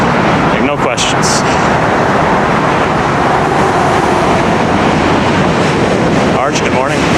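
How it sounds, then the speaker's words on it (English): A train rumbles across a bridge between Brooklyn and Manhattan in New York, a continuous loud roar heavily buffeted by wind noise, with faint voices now and then. "All right, there goes the train."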